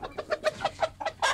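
A young rooster of a chocolate-colored line clucks in a quick series of short, evenly spaced calls, close and clear with no talk over them.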